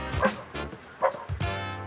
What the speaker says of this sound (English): Listen to that bark.